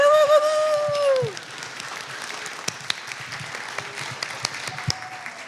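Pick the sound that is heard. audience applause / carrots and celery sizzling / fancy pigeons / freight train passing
audience applause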